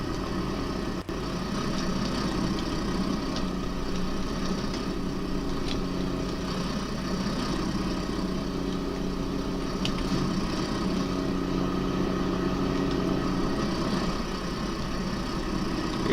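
Old International tractor engine in a farming game, idling steadily with a low, even mechanical drone and a faint knock, alone without talk for the whole stretch.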